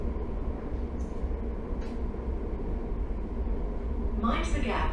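A train stands at a British station platform, giving off a steady low rumble with brief hisses and a burst of air-like noise near the end, while a public-address voice speaks over it.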